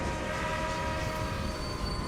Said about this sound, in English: You can see the trains whizzing in and out of the station there.